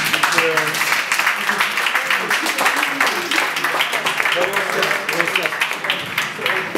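Dense clapping from an audience at a snooker hall premiere screening, continuous and fairly close, with voices and cheers mixed into the applause.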